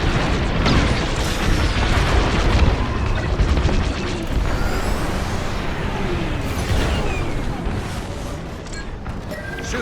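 Blaster cannons fired at a target during a Star Wars Squadrons space dogfight, a constant loud wash of rapid shots, booms and engine roar that thins slightly toward the end.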